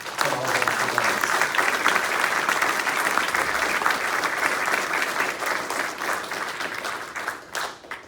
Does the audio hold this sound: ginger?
no